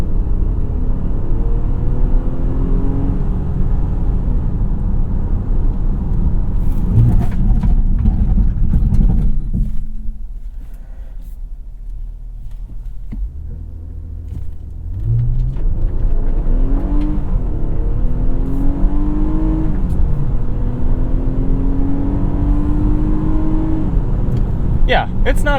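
A 2022 Infiniti QX60 SUV accelerates up to speed on a road, its engine droning and rising in pitch through shifts over steady road rumble, with a brief quieter lull midway, while someone talks over it.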